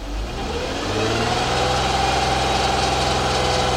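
A 2004 Nissan Maxima 3.5 V6 with a lean condition fault idles with a steady low hum, then the revs rise smoothly into a louder, sustained drone, close and continuous throughout.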